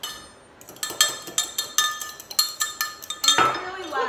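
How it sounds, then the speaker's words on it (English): An egg being beaten in a cup with a utensil, giving a run of about a dozen sharp, evenly spaced clinks against the side, close and fairly loud, ending in a brighter scrape. "And I'm going to beat up this egg"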